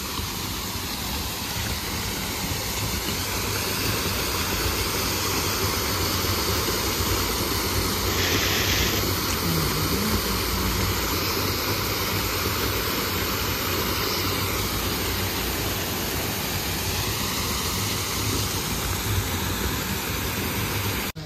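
Steady rain falling outdoors, a dense continuous broadband hiss that holds at an even level from start to finish, with no voices.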